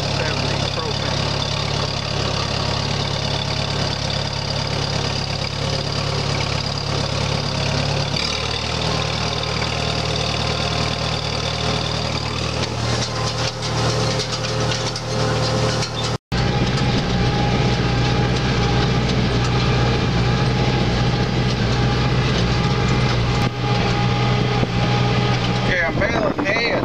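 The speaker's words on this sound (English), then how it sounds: "Raking today with the M670. The third from the last 1970 M670 propane." A 1970 M670 propane tractor raking hay: a steady, loud, close engine drone runs throughout. Its pitch shifts slightly partway through, with a brief dropout in the middle.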